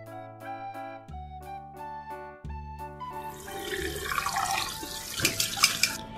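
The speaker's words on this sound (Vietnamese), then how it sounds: "Sau đó mình rửa sạch lại với nước lạnh một lần nữa." Cold tap water runs into a sink to rinse pork ribs, a steady splashing stream under a tonal musical background that turns into louder, busier gushing and sloshing in the second half.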